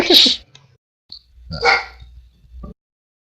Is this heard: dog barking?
yes